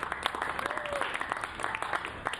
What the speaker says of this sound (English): give yourselves a big round of applause for being here today